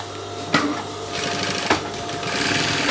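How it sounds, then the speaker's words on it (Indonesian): A sewing machine double-stitches the lower edge of a pair of cotton drawstring shorts, a steady close whirring drone with two brief sharp knocks and the motor speeding up near the end. "Kemudian balik ke bagian bawah untuk menjahit double."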